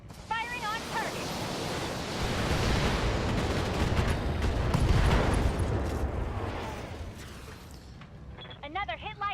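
Missile volley fired from a mech in the video game Battletech: a dense, rumbling roar of launches and impacts that swells and holds for several seconds, with voices talking over it.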